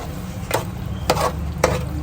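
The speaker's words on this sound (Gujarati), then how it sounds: "આને આપણે મિક્સ કરી દઈએ." Kutchi dabeli masala being mixed, with three distinct scraping strokes of a spoon against a pan or bowl over a low steady background hum.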